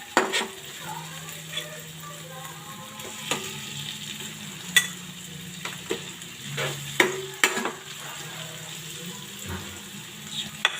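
Tilapia frying in a pan, a steady soft sizzle with intermittent sharp pops and spatter crackles, close and continuous throughout.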